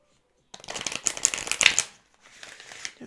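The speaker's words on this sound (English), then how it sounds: "Doing some shuffling." Oracle cards being shuffled by hand in quick riffling bursts, close and crisp, with a brief pause before softer shuffling resumes.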